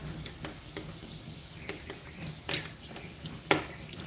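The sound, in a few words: water rinsing soap off a dog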